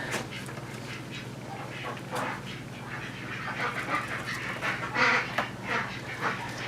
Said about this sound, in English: you probably hear the ducks in the background